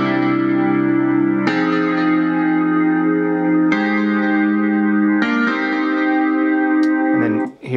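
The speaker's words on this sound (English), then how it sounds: "And here's the electric grand I just got recently." Electric grand piano virtual instrument triggered from an iPad, ringing out sustained chords with a bright, slightly chorused and echoing tone, changing about every two seconds, loud and alone, with a short clatter at the very end.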